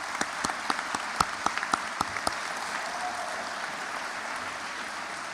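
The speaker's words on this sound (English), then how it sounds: "Please join me in giving them a round of applause." A high school awards-evening audience gives a fairly faint, thin round of applause, with a few sharp individual claps standing out early before the clapping fades to a soft wash.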